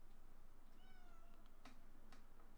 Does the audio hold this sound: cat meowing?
yes